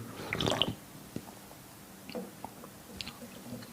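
Swallowing and gulping close to the mic as someone drinks water from a bottle or glass, a cluster of wet clicks and sips in the first second followed by softer scattered mouth and handling sounds.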